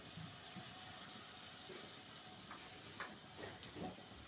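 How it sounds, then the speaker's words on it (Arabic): Spoonfuls of panné batter dropped into hot oil in a pan, a faint continuous crackling sizzle with small pops, soft and even, no voices. "هناخد كده بالمعلقه زي ما احنا شايفين وننزل في الزيت"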